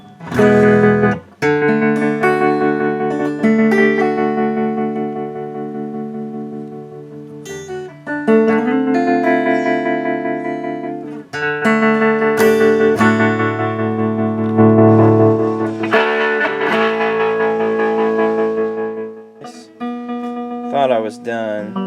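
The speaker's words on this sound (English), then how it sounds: "let's hear how it sounds without the reverb tank and just the tremolo" Electric guitar played through a 1967 Ampeg Gemini tube amp with tremolo on and no reverb tank, sustained chords and notes pulsing in volume, loud and close, with brief dropouts between phrases.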